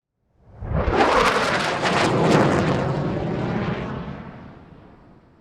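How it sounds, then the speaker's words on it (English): A loud, rumbling roar swells quickly and then slowly fades over several seconds, like a plane passing low overhead. "Up in the sky, it's an airplane."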